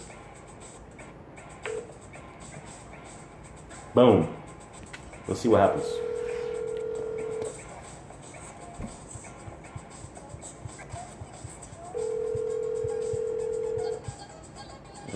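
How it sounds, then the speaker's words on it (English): A phone on speakerphone rings with two long, steady tones several seconds apart, each clear and moderately loud, after someone talks briefly and a couple of sharp clicks. "There we go, it's ringing."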